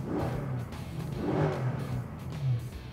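A 2014 Mercedes C63 fitted with a Fi-Exhaust set to its quieter street mode, a subdued low engine rumble with slight rises in revs, steady and moderately close.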